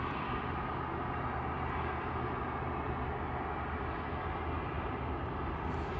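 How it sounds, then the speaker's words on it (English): An Aer Lingus propeller airliner taxis at Manchester Airport, its engines making a loud, steady drone with no break throughout. "Noisy prop next. Aer Lingus heading back to Belfast GCMMT, 80 hours up to 600."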